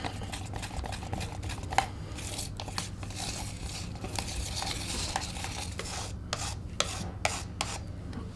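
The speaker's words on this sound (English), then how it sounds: "Make sure when you're mixing it, you take everything off the sides, out the corners, and give it another good mix" Polyurethane casting resin being stirred by hand, with the mixing tool scraping around the sides and corners of the container in a steady run of soft scraping and rubbing strokes, fairly quiet and close, with no talk.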